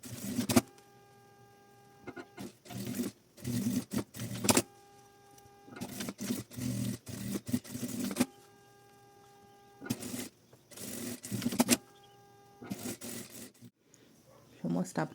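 A sewing machine stitches a fabric card-holder wallet in repeated bursts of mechanical whirring separated by short pauses, close and fairly loud, with someone talking between runs.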